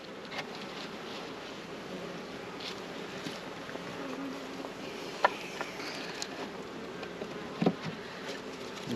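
Honey bees buzz around an open hive during a September beekeeping visit, a steady, soft, continuous hum with a few sharper passing buzzes and light handling knocks nearby.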